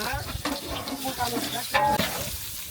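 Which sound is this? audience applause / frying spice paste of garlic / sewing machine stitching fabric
frying spice paste of garlic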